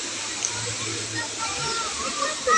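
Mountain spring water pours at a resort pool in Laguna, a constant close splashing rush and hiss, with a person speaking over it.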